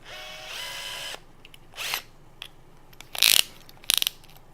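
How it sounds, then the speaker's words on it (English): A strong cordless drill whines briefly while driving a pocket screw, then its clutch slips in short bursts of rapid ratcheting clicks separated by quiet gaps. "I'm going to set the clutch down pretty weak because this is a strong drill."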